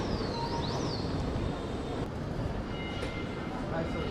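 Train at Flinders Street station in Melbourne, a loud continuous rumble and roar of rolling rail cars with high squeals near the start, heard close up.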